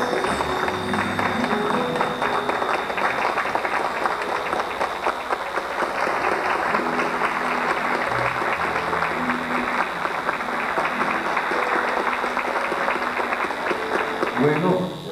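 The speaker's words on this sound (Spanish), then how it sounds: "vamos a prodigarle un aplauso todo de pie." A standing audience at a Boyacá literary event gives sustained, loud applause, a thick steady wash of clapping across the whole stretch with crowd murmur and some speech mixed in.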